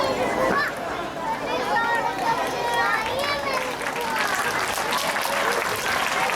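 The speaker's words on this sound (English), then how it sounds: "Please give him a big round of applause." Sustained applause from a crowd at a school Deepawali celebration, dense clapping mixed with cheering and children's voices, loud and continuous throughout.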